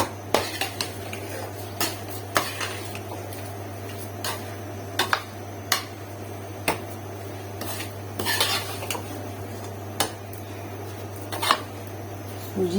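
Semolina roasting to brown in a pan for suji halwa, with regular sharp spoon scrapes and clinks against the metal over a steady low hum, spaced about a second apart.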